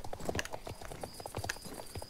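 Horse hooves clip-clopping in the online horse-riding game Star Stable Online, a steady run of crisp hoofbeats at close range with a faint tonal game sound in the background.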